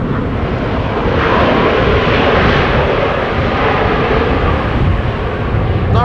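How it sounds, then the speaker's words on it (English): An Embraer jet landing at Amsterdam Schiphol in breezy conditions after a storm, its engines roaring loud and near on reverse thrust in a sustained, broad rumble throughout. "Embraer landing in the meantime."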